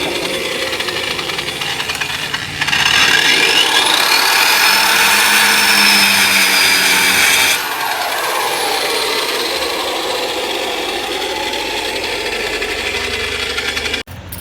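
An Xtra Power 6500 watt wall chasing machine runs with a loud high motor whine, rising as it cuts into a wall for several seconds, then dropping back to a steady run before cutting off.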